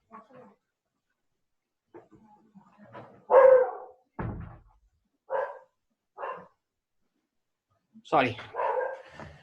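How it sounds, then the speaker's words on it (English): A pet dog barks several times in short sharp bursts during an indoor lecture recording, near and loud, with someone speaking briefly between the barks. "My dog has joined."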